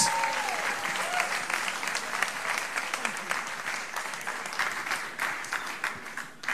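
An event audience at a fair-tax gathering in Europe breaks into sustained applause welcoming journalist Paul Mason, a dense patter of clapping that holds steady for several seconds, with faint crowd murmur and whoops beneath.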